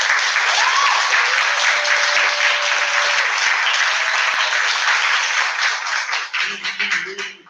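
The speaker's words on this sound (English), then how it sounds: "I want to hear a round of applause for Kareem and Susie." A teach-in audience gives Kareem and Susie a dense, sustained round of applause that stays loud for several seconds, then thins out as a voice starts speaking.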